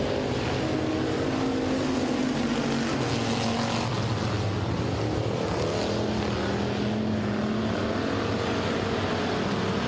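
Race cars roar at a speedway as a heat race goes green, a dense, continuous wall of engine noise from the pack throughout, steady and loud with no talking.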